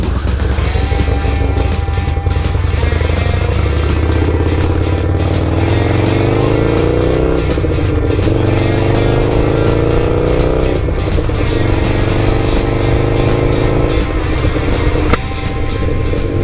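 A Buell motorcycle engine roars and revs repeatedly, pitch sweeping up and down across several throttle pulls, loud and close with no talking.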